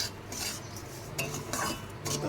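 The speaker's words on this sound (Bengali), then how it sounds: "এটা নাড়তে থাকবো নাহলে লেগে যাবে" Sugar and semolina being stirred in a pan over a medium flame, with a spoon scraping and clinking against the metal in steady, close strokes and a faint sizzle underneath.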